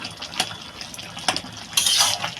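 A spoon stirs soft, broken-down potato curry in a cooking pot, producing a few close clinks and scrapes against the metal followed by a short wet rustle.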